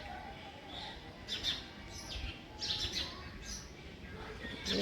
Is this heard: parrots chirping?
yes